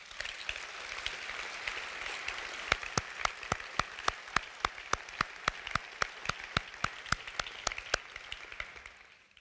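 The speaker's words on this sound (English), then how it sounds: "Please, an applause for all of them." An awards-ceremony audience in Vienna applauds, with a broad, sustained roar of many hands and then one sharp clap pattern that settles into steady rhythmic clapping in unison before it fades.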